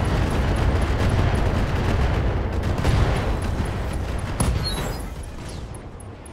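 A continuous roar of rocket fire and explosions in the mech strategy game Roguetech, a dense rumbling barrage that stays loud throughout and slowly fades toward the end, with no talking.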